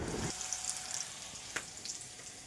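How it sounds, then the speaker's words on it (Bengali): Water spinach (kalmi shak) frying in a pan on a gas stove, a faint, steady sizzle with soft crackles and an occasional louder pop, heard close up with no talk. "কলমি শাক ভাজা করছি"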